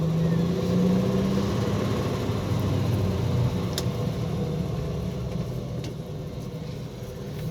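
An old Jeep YJ with a manual clutch and a 4.2 liter engine drives up through its gears with a rough, farm-truck rumble that stays loud and steady, then eases off slightly near the end.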